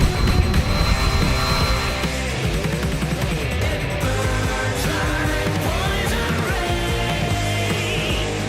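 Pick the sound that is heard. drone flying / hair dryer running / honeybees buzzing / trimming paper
drone flying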